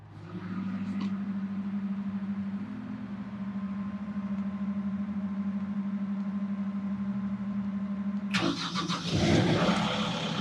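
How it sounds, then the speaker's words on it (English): A rental machine engine with a hydraulically lowered deck idles with a steady low hum, then after a brief sputter it starts up and roars into a louder, rougher running sound. "At this point, you will start the engine"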